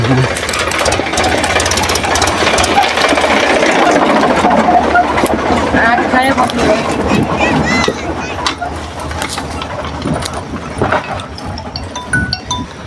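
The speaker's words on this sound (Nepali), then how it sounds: "ट्र्याक्टर आइदिइरहेको" A loud, rumbling tractor diesel engine chugs steadily close by, with rattling metallic clanks over it and voices talking nearby.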